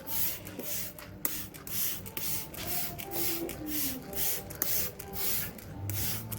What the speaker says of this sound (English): Spray everything you just painted.